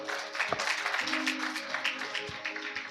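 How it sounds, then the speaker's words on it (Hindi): Clapping at a Sunday sermon service in a church arena, a dense crowd applauding continuously with no pause, mixed with some voices, as the preacher urges everyone to clap loudly for themselves. "अपने लिए भी तालियां बजाना जोर से"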